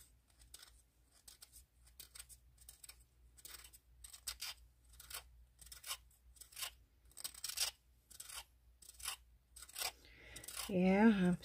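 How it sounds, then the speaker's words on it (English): A resin piece is chiseled down at the top with repeated short scraping, rasping strokes in an irregular rhythm, quiet and close, before a brief louder burst at the end. "I'm sort of chiseling down the top a little bit."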